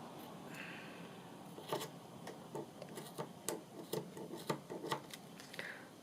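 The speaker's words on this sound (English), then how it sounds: "My scissors are beginning to get a little blunt." Quiet snips and crisp cutting sounds repeat irregularly, close by and faint, as slightly blunt scissors work through fabric in short strokes.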